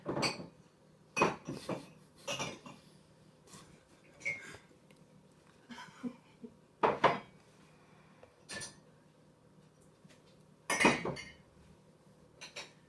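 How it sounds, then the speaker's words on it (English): Glasses and dishes clink and clatter as they are handled at a home dishwasher in a series of sharp, close, irregular glassy knocks and chinks, with quiet pauses and faint rustling between them. "I'm going to have enough room for all the glasses that are in my dishwasher"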